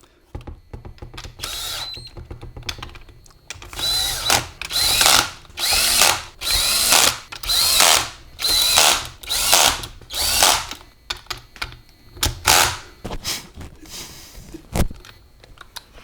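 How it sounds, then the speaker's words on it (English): An air gun runs down transmission cover bolts on a Jeep T176 Tremec four-speed toploader, firing about ten quick rattling bursts in a row, with short pauses and metallic clinks in between. "Then I'm going to go run the bolts down with the gun."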